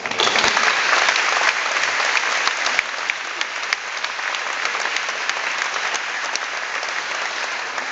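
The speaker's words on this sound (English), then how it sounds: "Let's give them applause." A crowd applauds the last graduating class of Camp Darby High School at its 2007 ceremony, giving a dense, steady wash of clapping that holds for about eight seconds and eases only slightly toward the end.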